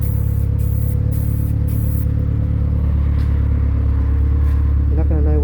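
A spray can hisses onto an MK4 Golf spoiler in several short bursts over the first two seconds, then stops, leaving a steady low hum underneath.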